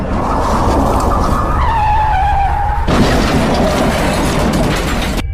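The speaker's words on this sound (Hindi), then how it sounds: "तभी सोन अपनी गाड़ी को स्टार्ट करता है और उस भेड़िया को उड़ा देता है।" A car engine revs loudly and tires squeal in a long skid, followed by a harsh crashing burst that cuts off abruptly.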